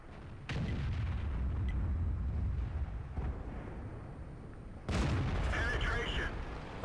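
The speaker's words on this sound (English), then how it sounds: "Another lovely shot into the Type 59." Tank cannon fire in World of Tanks, a deep booming shot rolling out low and loud, followed by a second heavy blast a few seconds later, under continuous game noise.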